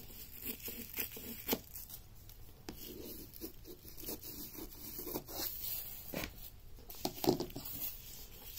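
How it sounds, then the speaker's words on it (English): Scissors cut the bottom seam and handles off a plastic bag, a close, quiet run of crinkly snips, rustles and rubbing scrapes that comes in irregular bursts with no talking. "Grab your scissors. You're going to cut off the bottom seam and the handles."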